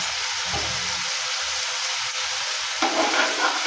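Spice masala frying in oil until the oil separates, a continuous close sizzle and crackle with a few low scraping stirs and a brief louder burst near the end.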